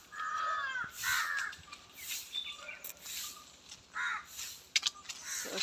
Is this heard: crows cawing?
yes